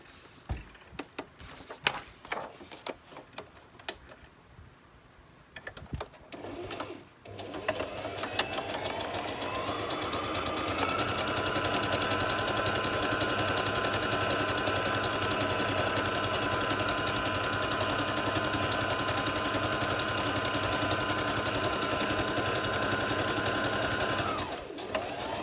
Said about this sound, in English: So I'm going to sew this edge here first, and then I'm going to tip it, and I'm going to sew all the way along there